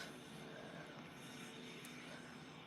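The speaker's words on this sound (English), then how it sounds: "Look at that takeoff." A radio-controlled plane with a full jet engine takes off, giving a steady, faint, far-off roaring whine that holds unbroken throughout.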